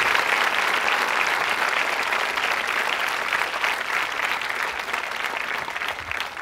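At a quiz show held at the Government Women Engineering College in Ajmer, the audience breaks into loud, dense clapping that continues steadily throughout with no one speaking over it.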